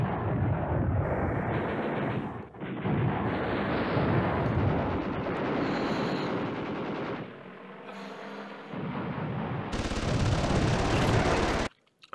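Airstrike explosions in the wargame Command Ops 2: continuous heavy booming and rattling gunfire-like blasts, loud and dense, easing briefly before a final intense burst.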